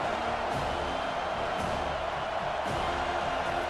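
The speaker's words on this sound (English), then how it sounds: "Decibels rising as the crowd gets behind this defense on third down." Steady roar of a stadium crowd in EA Sports College Football 25 fills the space on a third-down defensive stand, a broad constant wash of cheering with occasional thumps and whoops, loud and unbroken.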